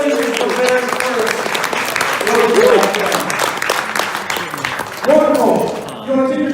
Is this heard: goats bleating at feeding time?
no